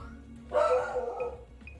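A pet dog named Cooper gives a short burst of barking or yipping indoors, moderately loud and close, with steady low background hum from a game session underneath.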